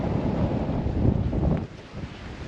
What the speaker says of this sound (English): Pretty cool and windy.